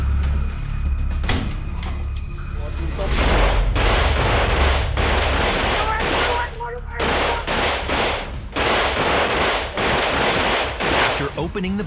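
A burst of gunshots and rapid fire rings out in a series of sharp, loud cracks, mixed with clattering and shouted voices close by, as New Orleans police clear rooms.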